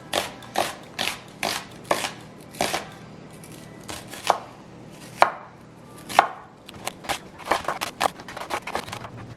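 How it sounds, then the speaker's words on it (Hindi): Onions being chopped with a knife on a board, a quick run of crisp, close thuds in uneven bursts with short pauses between them. "बाय द टाइम मैं प्याज काटूंगी और उनको फ्राई करूंगी"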